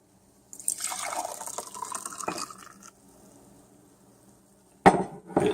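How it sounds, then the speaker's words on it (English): Chaga mushroom tea is poured into a coffee cup in a gurgling stream lasting about two seconds, followed by a quiet pause and then sharp clinks of the cup being handled. "when you pour this back into your coffee cup"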